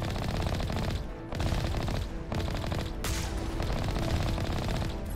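Sustained gunfire in Mass Effect, a dense rattling stream of rapid shots broken by brief pauses, loud and close throughout.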